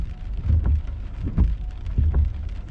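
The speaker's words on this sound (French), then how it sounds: "C'est de la grosse grêle là-dessus." Hail and heavy rain pound down during a thunderstorm near Saint-Lin–Laurentides, Quebec, a steady close drumming with irregular heavier thuds and a low rumble beneath, no voices.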